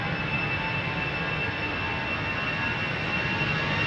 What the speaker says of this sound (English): This is an A319 EasyJet on its way to Bristol.